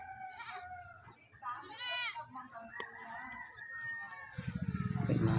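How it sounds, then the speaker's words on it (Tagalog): Goats bleat several times at a rural island farm, with a wavering cry near the middle and a rough, pulsing bleat toward the end, under background chatter and outdoor noise. "May mga kambing siya."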